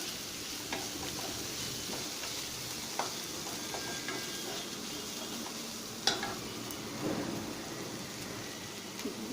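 Cumin seeds and a pinch of asafoetida fry in hot oil in a pan, giving a continuous crackling sizzle with scattered pops and spoon scrapes, no voices.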